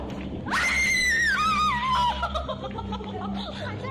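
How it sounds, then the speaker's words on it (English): A high-pitched girl's scream rises sharply, wavers and trails off into fainter cries, loud and close over a low rumbling background. "something startles the girl, who then runs screaming from the room"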